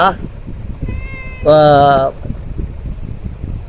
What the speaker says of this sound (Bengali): এই যে দেখতে পাচ্ছি বিড়ালের হ্যাঁ, খুব সুন্দর কালো এবং সাদা হ্যাঁ এই বিড়ালটা